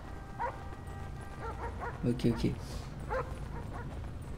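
A dog in a video game barks and yips in a few short bursts, mid-distance, while players talk over the game sounds.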